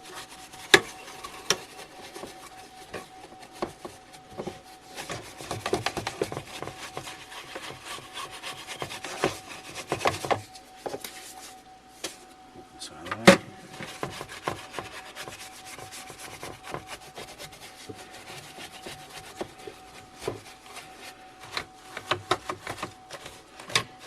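A paintbrush sweeps over the chassis of an Electrohome G07 arcade monitor, giving soft, scratchy, irregular bristle strokes that come and go at close range.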